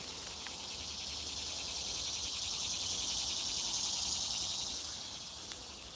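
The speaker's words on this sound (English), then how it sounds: "the cicadas have actually been getting a lot louder" Cicadas in the woods make a faint, steady high-pitched buzzing drone that swells a little in the middle and then eases off, with no voices.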